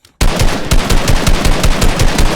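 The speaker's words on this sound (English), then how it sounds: "I can start shooting" Rapid automatic gunfire from a weapon in the video game Fortnite: a loud, close burst of evenly spaced shots rattling on for about two seconds after a brief quiet start.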